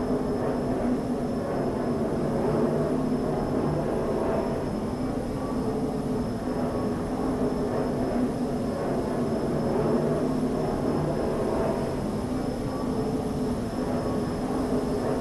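Airliner taking off at Athens International Airport, a steady loud jet roar with broad rumbling noise, close and continuous without breaks.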